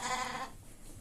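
A sheep near its small, newborn lamb lets out a single wavering bleat, close and clear for about half a second, before falling quiet.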